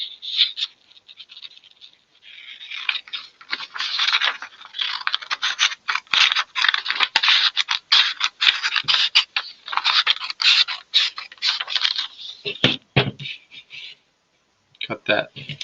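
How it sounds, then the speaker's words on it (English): Scissors snipping through a sheet of paper to trim it into a square, a steady run of crisp scratchy cuts close by, ending in a few separate snips. "So you would take a scissors"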